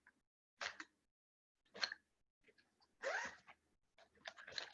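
Zipper on a bag with three zippered compartments being pulled closed, several short rasping strokes in separate bursts, close and fairly quiet, with no talk over them.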